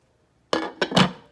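A ceramic crockpot lid is set down on the pot with a few quick clinks and knocks, close and clear in a quiet kitchen.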